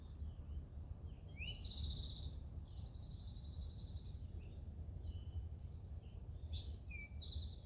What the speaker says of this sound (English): As the birds are coming alive this morning,